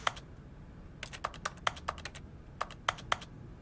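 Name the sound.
keyboard typing sound effect in Stanley Parable video game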